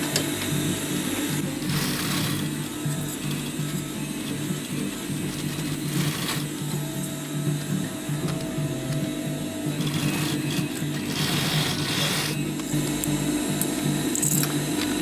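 A sewing machine stitches canvas for a fanny pack, running in steady mechanical bursts with brief pauses and a constant hum between them.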